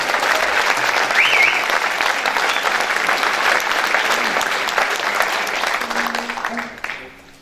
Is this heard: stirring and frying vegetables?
no